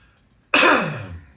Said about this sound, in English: Give me a cough.